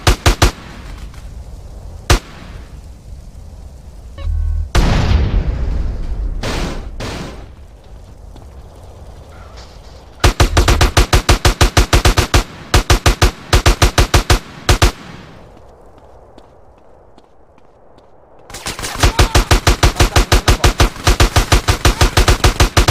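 Gunfire in GTA San Andreas: rapid loud automatic bursts and single shots, a blast with rumble, then long dense stretches of fast machine-gun fire separated by a quieter lull.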